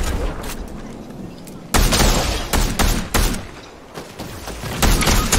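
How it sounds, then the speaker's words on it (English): Video game gunfire in bursts, with several loud shots and volleys spread across the stretch, set close against a busy background of game noise. "Someone shooting."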